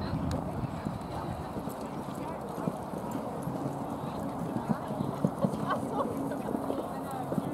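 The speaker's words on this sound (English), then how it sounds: "And Sam very quickly through there and into the saddle" Horses gallop during a mounted pairs race at the 2024 British Pairs Open, their rapid hoofbeats clattering steadily under an excited commentator's voice.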